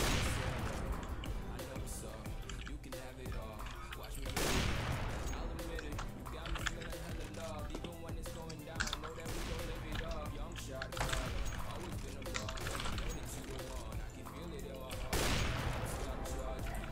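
Rapid video game gunfire during a 1v1 match, dense bursts of shots running continuously with a few louder blasts, under excited talk between players.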